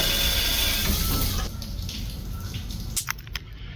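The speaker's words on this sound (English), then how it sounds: "I'm gonna get a quick shower in." Shower running inside a camper van: a steady hiss of spraying water that drops away halfway through, followed by a few faint knocks and drips.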